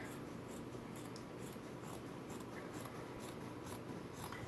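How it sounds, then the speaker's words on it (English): Scissors slicing across a T-shirt to cut fabric strips about 2.5 inches wide, a faint continuous crunching and snipping with regular light clicks, close but quiet. "I'm just cutting across."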